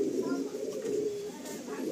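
Breeder pigeons, a male and a female, cooing in low rolling calls nearby, with a voice talking faintly underneath.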